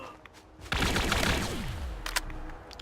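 Gunfire in the Fallout 4 Far Harbor expansion, a loud burst of rapid shots with a falling whine trailing off, followed by a couple of sharper cracks.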